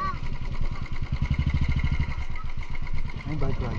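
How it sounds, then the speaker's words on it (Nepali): A motorcycle engine throbs close by on a village road near Rumsi, Nawalpur, its pulsing rumble rising and falling steadily throughout, with voices chattering over it. "हैन बाइक लाग्छ त्यो"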